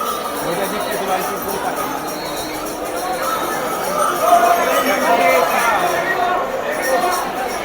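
A large crowd of Hindu pilgrims at Tarakeshwar during the Shravan month makes a dense, continuous babble of many voices and footsteps, close by and rising slightly partway through.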